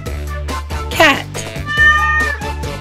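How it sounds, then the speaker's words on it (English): A cat meows twice, close and clear, over background music while a voice speaks nearby. "The cat chases little things away."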